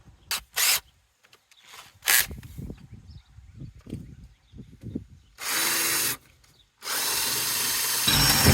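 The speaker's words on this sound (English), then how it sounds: "We're just gonna select one that'll drill out the center of that." A power drill with an 11/64 bit bores out the center of a part on a 2002 GMC Sonoma, several short whirring bursts followed by two longer sustained runs, close and loud, with some handling clatter between them.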